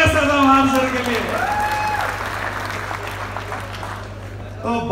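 In Birla Auditorium, an audience at an army comedy event bursts into applause that rises and then settles into a dense, steady wash, with a voice speaking over the opening moments.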